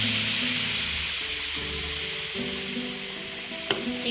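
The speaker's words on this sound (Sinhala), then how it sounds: "දැන් මම මේකට එකතු කරගන්නේ කිරි." Milk poured into semolina (rava) frying in butter in a pan, giving a steady close sizzle with faint stirring clinks and one sharp utensil tap near the end.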